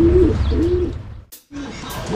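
Racing pigeons coo in low, rolling repeated calls close by, with several coos running together and a brief gap in the middle, and no voices over them.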